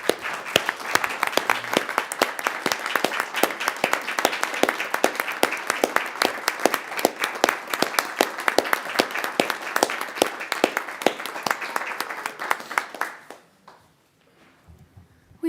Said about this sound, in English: So will you join with me, please, in a round of applause?